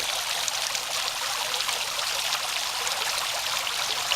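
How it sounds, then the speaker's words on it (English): Water trickles and splashes steadily off the rim of a tiered fountain bowl outdoors, a continuous bright hiss of falling water at close range with no voices. "you should be able to see the water dripping clearly off of the rim of the bowl"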